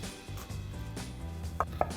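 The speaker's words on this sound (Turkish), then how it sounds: "Kerevizleri de elmada olduğu gibi ince şeritler halinde doğrayalım" A knife cuts celery into thin strips on a cutting board, a few sharp, close taps and crisp chops in an uneven rhythm, with no talking.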